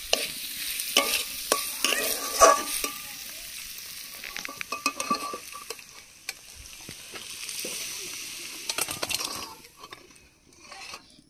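Meat being stir-fried in a pan for Mughlai paratha filling, with a spatula repeatedly scraping and stirring through a soft sizzle in irregular bursts, close by and with no talk.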